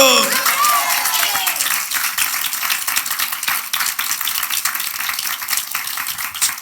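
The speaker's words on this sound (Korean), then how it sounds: "믿는 우리 하나님께 박수" A church congregation at a Sunday morning worship service breaks into dense, sustained applause that fills the room, continuing steadily after a voice fades out at the start.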